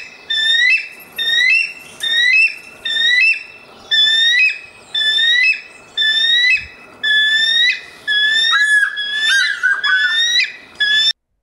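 Repeated eagle screeches from the tank dating sim game Panzermadels, about a dozen sharp, rising whistled calls in a steady rhythm, loud and close, with no talk over them.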